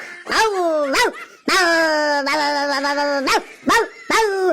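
A human voice imitates a pack of ten or twelve dogs barking and howling outside a house, giving loud yelping barks and drawn-out, wavering howls in quick uneven bursts.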